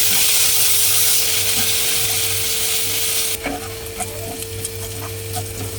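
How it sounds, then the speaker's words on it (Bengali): A paste of ginger, garlic and green chili fries in hot oil, a loud, dense sizzle that drops to a quieter crackle partway through, with scattered clicks from stirring. "আদা রসুন কাঁচামরিচ আমার ভালো করে ভাজা হয়েছে"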